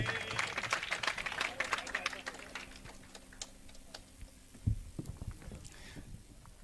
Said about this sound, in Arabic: صفقوا اليوم على